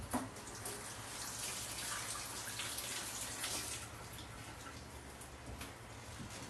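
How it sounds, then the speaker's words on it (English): Tap water runs steadily over green onions being washed in a sink, a soft continuous splashing hiss with occasional faint drips and handling sounds, quiet and without talk. "so I'm just going to wash all of these."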